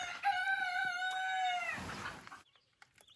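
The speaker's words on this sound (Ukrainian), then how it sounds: "Які курчатка чудові. Вивелися вже." A rooster crows loudly and close by for a couple of seconds, followed by softer rustling and faint peeping.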